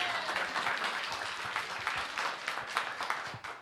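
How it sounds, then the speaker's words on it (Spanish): A church congregation claps for the king during a Spanish-language service, a broad wash of applause with scattered sharper claps running steadily throughout and a few louder bursts near the end. "Dale un aplauso al rey"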